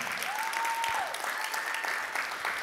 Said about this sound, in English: Come on, clap strong.